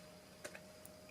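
Computer keyboard typing during a Kano coding tutorial, a few soft, quick key taps spaced irregularly, faint and close against a quiet background hum.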